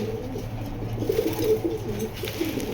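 A racing pigeon coos softly nearby in a low, throaty burble, a couple of repeated rolling calls over a constant background hum.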